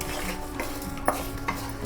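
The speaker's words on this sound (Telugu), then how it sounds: "ఈ నూనెలో ఈ మసాలాలు మంచిగా కలిసేదాకా ఇట్లా కలుపుకోవాలి" Spices and turmeric are stirred into oil in a pot for tomato chutney, giving soft close scraping strokes and a couple of light metal taps over a faint sizzle and low background hum.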